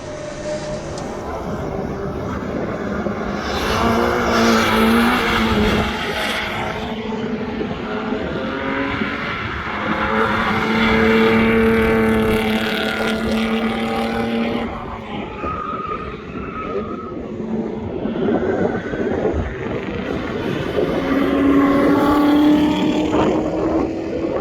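A rear-wheel drive race car with a locking differential lapping Hampton Downs circuit, its engine note rising and falling steadily through gear changes and corners, loud and continuous throughout.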